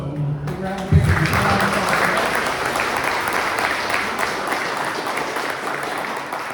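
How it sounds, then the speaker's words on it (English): Sustained applause from an audience at a district candidate forum, a thick steady wash of clapping after a brief voice at the start, holding loud through the end. "So, big round of applause"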